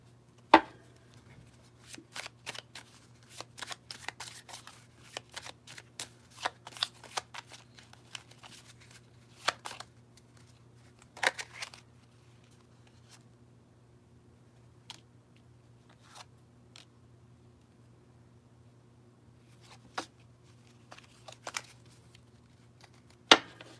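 Playing cards being shuffled and handled in a quiet room, with repeated short riffling bursts and crisp snaps spread over about twenty seconds, plus a faint steady hum underneath.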